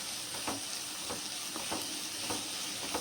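Sliced onions frying in a pan at home, a soft steady sizzle broken by repeated scraping strokes of a stirring spoon roughly every half second, close and fairly quiet.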